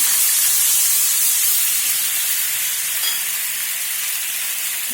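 Steady, loud sizzling hiss of a bowl of water poured into hot oil tempering with spices in a pan, continuous throughout with no talking.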